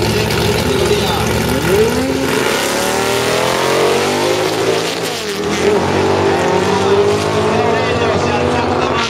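Volkswagen Beetle drag racing car running on a drag strip against an American car, a loud sustained engine roar with rising revs, heard under an announcer's fast commentary.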